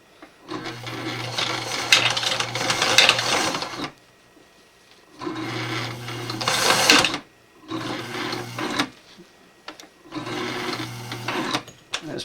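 An old sewing machine stitches camo fabric in several bursts of steady mechanical whirring and clatter, loud and close, separated by short pauses.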